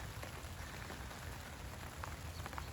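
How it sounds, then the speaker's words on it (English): Steady rain falls outdoors, a soft continuous hiss of drops on surfaces with a few slightly louder patters, faint and even throughout with no talking. "Yeah, it's currently raining right now."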